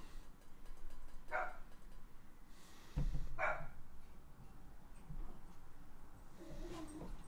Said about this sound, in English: These dogs are having moments out there, man.